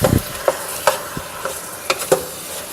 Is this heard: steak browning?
yes